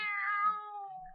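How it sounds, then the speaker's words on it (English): A kitten meows in a 1945 radio drama adaptation of Poe's The Black Cat, one drawn-out, clear mewing cry that wavers and slowly fades, heard alone with no voices. "Nobody's going to hurt you, kitty, no."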